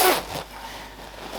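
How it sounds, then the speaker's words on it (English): The hood zipper of a Stone Island Reflex Mat jacket gets zipped up with one quick, close rasping pull, followed by faint handling rustle and a quieter scrape near the end. "let me just zip this up for you so you can see."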